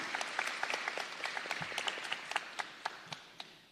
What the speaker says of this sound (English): let's give them a really nice round of applause